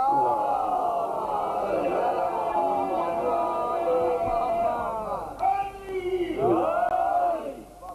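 A large crowd at a religious night gathering chants a slogan in unison, drawn-out sustained voices rising and falling together, loud and reverberant, with a brief break before a second swelling call.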